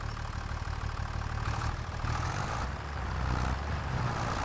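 A beefy tractor engine idles in a farming video game, a steady low rumble with a faint rhythmic throb holding at a constant level, close and with no voices.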